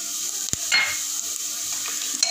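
Garlic sautés in hot oil with peanuts for dal khichdi, a light steady sizzle broken by a sharp utensil knock and brief stirring scrapes, close with no speech.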